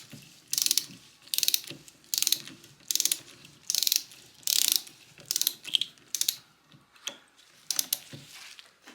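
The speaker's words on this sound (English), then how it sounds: "So now you're going to torque this down to 27 foot-pounds. And again, this is a 17 mil nut." A torque wrench tightens a 17 mm nut on the rear shock of a 2012 Kawasaki KX250F motorcycle, giving about a dozen evenly spaced bursts of sharp ratcheting clicks, close and clear with no talk.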